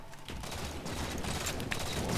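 Gunfire in the Halo 4 video game crackles in rapid, dense bursts that build and keep going through the whole moment, with no one talking.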